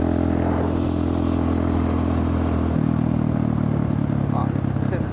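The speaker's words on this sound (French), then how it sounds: "La moto, elle vibre, il y a des trucs qui font des bruits bizarres" A motorcycle engine idles with steady low vibration and loose rattling, continuous and close throughout, in Bali, Indonesia.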